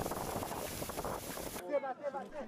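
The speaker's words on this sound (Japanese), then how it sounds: "この先を暗示するかのように強風が容赦なく吹きつけます。" Strong wind lashes a small seaside town in Colombia where refugee tents line the shore, a loud, steady roar of gusts buffeting the microphone that cuts off partway, after which a voice is heard.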